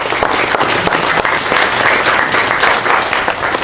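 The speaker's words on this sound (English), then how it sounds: "let's give a big round of applause to our team here" An audience at a mobile-industry panel session breaks into loud, sustained applause, dense clapping filling the room evenly from start to finish.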